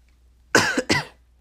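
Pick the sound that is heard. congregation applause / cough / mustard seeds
cough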